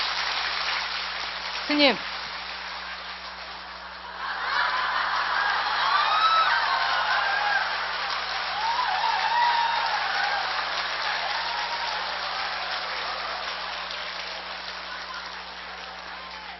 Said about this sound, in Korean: 스님께 큰 박수로 격려해 주시기 바랍니다.